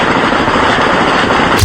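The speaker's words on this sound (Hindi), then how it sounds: "पहाड़ों पर उठता सफेद धुआं और गोलियों की ये गूंज" Dense automatic gunfire rattles loudly and continuously across the mountains at the Line of Control between India and Pakistan, with heavy echoing rumble filling the air.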